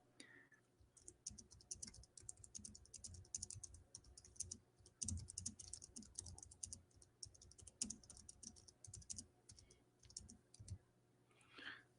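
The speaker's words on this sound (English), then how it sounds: "you find that you are typing in Arabic" Fingers type steadily on a computer keyboard, a quiet, continuous patter of soft clicks with irregular bursts and brief pauses over about twelve seconds, with no voices.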